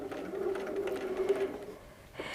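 A sewing machine stitching quilt fabric for free-motion feather quilting runs in a steady hum for about a second and a half, then stops briefly and restarts with a short burst, close and clear.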